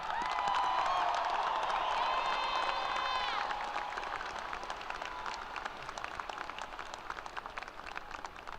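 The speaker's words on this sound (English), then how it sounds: "Let's give them a round of applause." Graduating seniors of the Grand Ledge High School class of 2026 greeted by a large ceremony crowd, sustained applause and some cheering filling a hall, strongest at first then easing slightly while continuing steadily.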